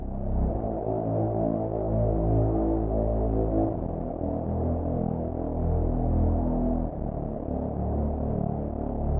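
A music track from the Katamari Hospital DLC of the horror game Spooky's Jumpscare Mansion HD: a low, dark, sustained droning tone with steady held notes and a slight shift partway through, no talking.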